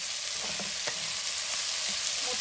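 Chopped tomato pieces being stirred in a frying pan, a dense steady sizzle with a few light scrapes of the spoon against the pan, close and continuous with no talking.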